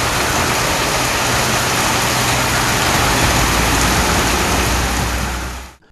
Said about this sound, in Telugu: సంగారెడ్డి జిల్లాలో ఈదురుగాలతో కూడిన భారీ వర్షం కురిసింది.